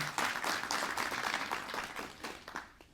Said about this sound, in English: Can we give a hand of applause for them?